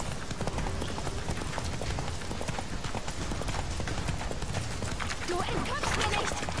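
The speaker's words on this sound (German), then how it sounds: "Na komm, Pferdchen." Rapid hoofbeats of a galloping horse in The Witcher 3 run steadily throughout amid dense game noise, with talk heard faintly in the mix.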